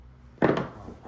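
A single hammer blow on wood, one sharp close thunk with a short ringing tail, alone against a quiet background.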